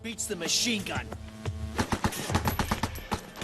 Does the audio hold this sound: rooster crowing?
no